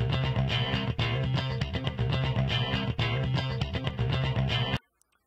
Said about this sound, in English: For this example, we have a loop of a modern rock guitar.